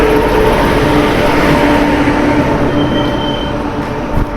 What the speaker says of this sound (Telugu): ఇప్పుడే ట్రైన్ అయితే వచ్చింది గైస్.